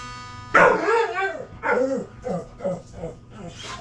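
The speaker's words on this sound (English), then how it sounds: "And that's the puppy dog." A puppy barks and yips indoors at a guitar repair shop, a loud close bark followed by a run of shorter, softer yelps and whimpers with no talk over it.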